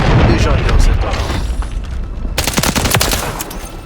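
Striker shotgun fire in Call of Duty MW3, with a dense booming blast followed by rapid bursts of loud gunfire, heard alongside speech.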